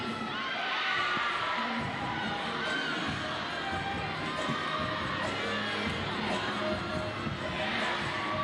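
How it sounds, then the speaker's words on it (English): The Auburn gymnastics team cheers and shouts from the background during a college gymnastics meet, a continuous crowd roar with excited voices and an arena announcer talking over it. "The whole Auburn squad in the background cheering Sophia on"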